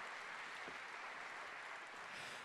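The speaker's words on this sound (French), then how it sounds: "On les applaudit très très fort tous les 5." Audience at an award ceremony applauds the five nominees for an energy-autonomous Nanterre project, a dense, steady wash of clapping that stays loud and even for the whole stretch.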